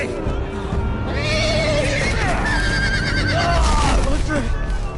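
Horse whinnying in a Game of Thrones battle scene, several rising and falling neighs at close range over a dense roar of combat noise, with voices talking throughout.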